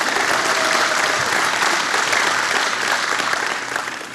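Steady, dense applause from an awards ceremony audience fills the room, continuous and loud, tapering slightly near the end.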